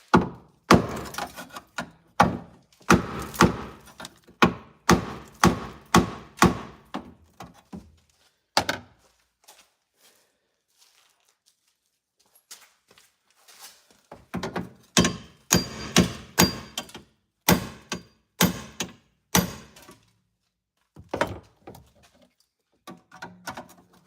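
Repeated metal-on-metal hammer blows from an old Craftsman adjustable hammer bending sheet metal on a Ford Ranger truck before spot welding, struck in quick bursts with a quiet pause in the middle.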